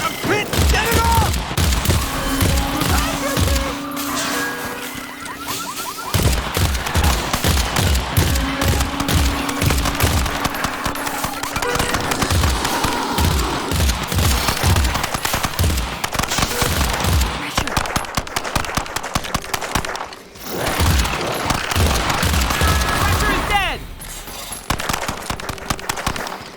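Sustained automatic gunfire from the co-op shooter EarthFall, a loud rattling stream of rapid shots with brief breaks that runs for over twenty seconds, mixed with game effects and occasional character voices.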